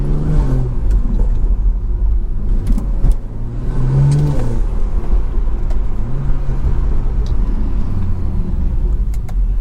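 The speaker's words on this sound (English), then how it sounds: "I can hear that turbo whining." A BMW 340i's B58 engine rumbles and revs loudly close by, with a faint rising turbo whine riding over the steady roar.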